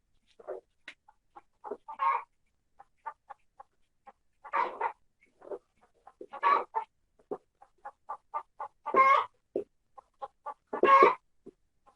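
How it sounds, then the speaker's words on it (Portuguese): Chickens and guinea fowl at a home yard give a string of short clucks and sharper calls, moderately close and fairly quiet, with several louder squawk-like bursts spaced through the stretch and no talking. "Galinha e Guiné aqui em casa."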